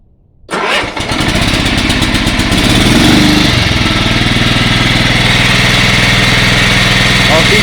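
A Yardman 15 hp riding lawn mower with a 42-inch deck starts after a brief crank and settles into a loud, steady, rumbling idle that runs on without interruption.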